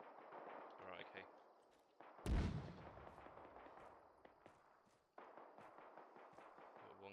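Mortar fire in the ArmA 3 military game, a single loud, deep blast with a long fading rumble, set among steady combat ambience and talk before and after.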